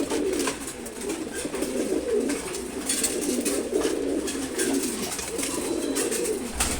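Pigeons at a pigeon farm coo continuously in overlapping low throaty rolls, close and fairly loud, with no break across the stretch.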